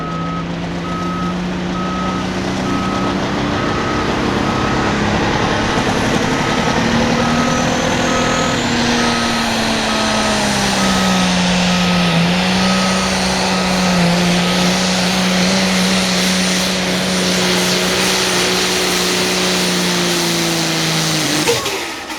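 An 8,500 lb limited pro stock pulling tractor roars in a long, loud, sustained drone at an outdoor pull, its engine pitch wavering and sliding down near the end, with a steady high tone running over it.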